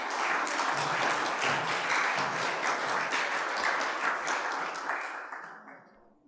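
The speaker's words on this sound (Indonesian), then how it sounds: "Mari kita beri tepuk tangan." An audience at a Carmelite study-day session applauds, a dense, even patter of many hands clapping that holds steady and then fades out toward the end.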